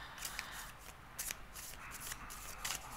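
Tarot cards are shuffled by hand in a quiet room, giving rapid, soft, papery riffles and flicks in uneven bursts, close to the microphone and without any talking.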